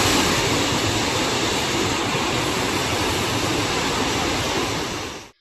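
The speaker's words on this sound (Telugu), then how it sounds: "వర్షాలు లేకున్నా జలపాతం హోరు మాత్రం చిన్నగా లేదు కదా." Broad, steady roar of a waterfall in Mulugu district, running loud and unbroken throughout with no voices, then cutting off abruptly at the very end.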